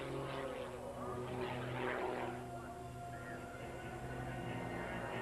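A propeller airplane twists and turns through the sky, heard from the ground as a continuous droning engine roar with slowly shifting pitch, steady and moderately loud throughout.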